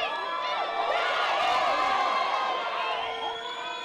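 Jamaica supporters at a 2018 RAN women's rugby tournament cheer and whoop continuously as a dense crowd, loud and sustained with high shouts rising over the roar.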